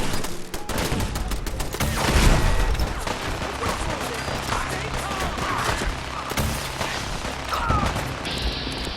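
Rocket launcher fire in Fallout 4 bursts out amid a dense, continuous barrage of gunfire and booming explosions, loud and chaotic throughout with no clear pause.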